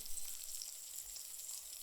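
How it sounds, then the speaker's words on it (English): Steak sizzles in a Kuhn Rikon Black Star iron pan with a constant, hissing crackle of hot fat, steady and fairly faint, with no talking. "I am going to give it a little nudge and I'm going to give it a flip"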